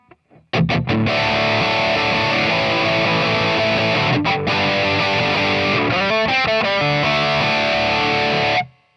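A rock electric guitar plays through a distortion plugin with its boost engaged, loud and crunchy: sustained ringing chords, a brief gap, then tight rhythmic chugging before cutting off abruptly.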